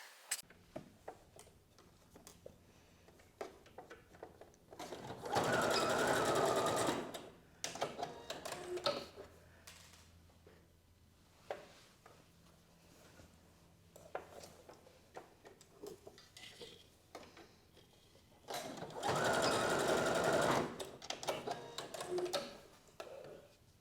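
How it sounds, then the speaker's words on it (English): A sewing machine stitches a dress strap in two loud bursts of rapid mechanical whirring, each about two seconds, separated by quiet stretches of faint handling noise. "So I'm just gonna sew the strap on here and then the same on the other side."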